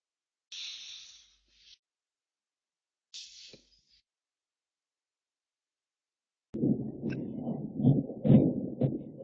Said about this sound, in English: Thunderstorms.